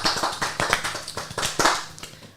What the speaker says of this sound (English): can we just have a bit of a round of applause for WODS?